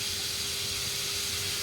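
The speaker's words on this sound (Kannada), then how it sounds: "ಈರುಳ್ಳಿ ಫ್ರೈ ಆಗ್ತಿರ್ಬೇಕಾದ್ರೆ" Onions frying in a pan give off a steady, even sizzling hiss that stays constant and fairly close, with no speech over it.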